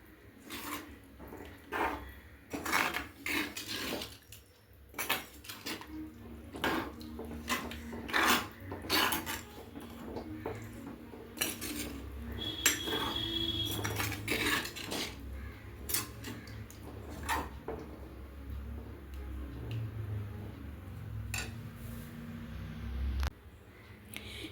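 Boiled mutton is stirred into curry gravy in a pot, with repeated clanks and scrapes of a spoon against metal over a low wet background, at close range.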